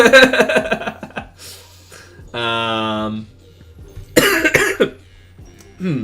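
Several harsh chest coughs from one person, close and fairly loud, coming in short bursts separated by pauses, mixed with a strained vocal sound in between.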